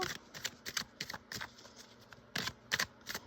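Crisp riffling and tapping of tarot cards being shuffled by hand, in short uneven bursts with brief pauses, close up and quiet.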